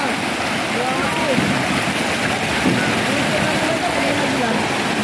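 Strong floodwater current rushing past: a continuous, loud broadband roar with no breaks, with faint voices mixed in.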